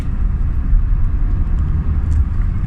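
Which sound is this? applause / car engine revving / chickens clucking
car engine revving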